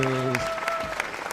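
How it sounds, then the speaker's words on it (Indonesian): Children in Sunday school clap their hands in a short burst of sharp, scattered claps, first under a held singing voice and then mixed with speech. "tepuk tangan buat Tuhan Yesus"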